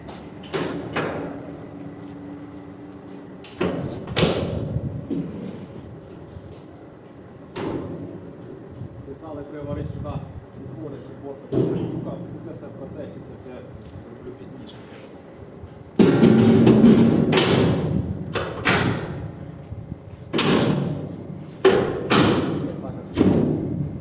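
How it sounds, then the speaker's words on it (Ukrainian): Side boards of a 2PTS-6 tractor trailer being swung open and shut outdoors: a series of heavy metallic thuds and clanks at uneven intervals, some loud and close, with a voice speaking at times between them. "Покажу, як відкриваються борта, в яких положеннях і як воно все працює."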